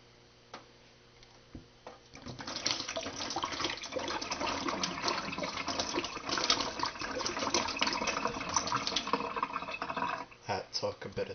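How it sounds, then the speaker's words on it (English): Water glugging and splashing out of an upturned bottle at close range for several seconds, a fairly steady gurgling pour that ends near the finish, with talk before it starts. "without using the bendy straw, how long it takes to empty the bottle"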